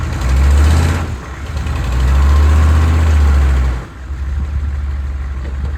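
A pickup truck engine runs loud and close while four-wheel drive is checked on a trail, a steady low rumble with one dip in the middle and a lighter drone near the end.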